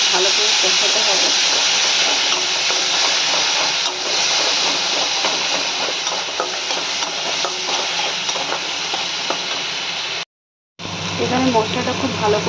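Spices sizzle and fry steadily in a pan while being stirred, a loud close hiss that runs almost without pause, broken by one brief gap of silence near the end.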